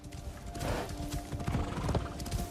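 A horse in the video game Assassin's Creed Shadows trots through snow, with close, rhythmic hoof clip-clops and a loud whinny partway through.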